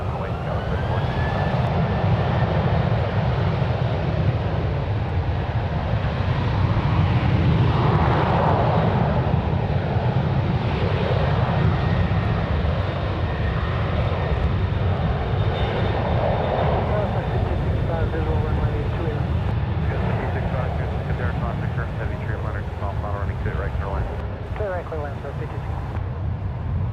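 A fixed-wing airliner at San Francisco International Airport roars steadily through its takeoff run on runway 1 left, loud and continuous for the whole stretch, with an air traffic control voice talking over it.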